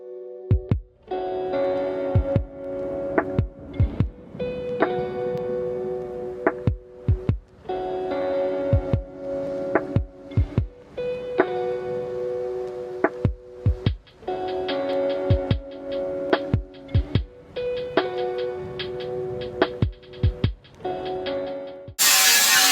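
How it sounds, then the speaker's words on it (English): Welding metal seams on a car transmission tunnel: bursts of steady buzzing hum a few seconds long, separated by short gaps and sharp clicks, repeating throughout with no talking. "I'm just going to start welding these out on this side and on the other side"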